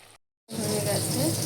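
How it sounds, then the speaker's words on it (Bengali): Crab frying in a pan in a home kitchen, a steady loud sizzle that starts after a brief silence and continues evenly, close to the microphone. "আর এখানে কাঁকড়া ভাজাও বসিয়ে দিয়েছি, এগুলো হয়ে এসেছে"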